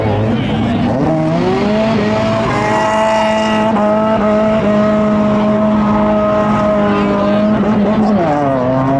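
Drag racing trucks at a spectator drag event accelerate down the strip with a sustained, loud engine drone whose pitch climbs and shifts, while a commentator talks over the engines throughout.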